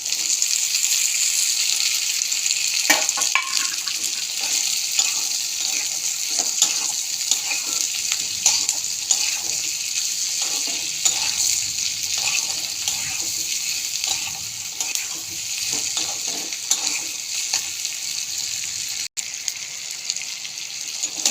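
Fried bitter gourd and potato sizzle and get stirred in a pan of spiced masala with oil separating, a steady close sizzle broken by scraping stirs throughout.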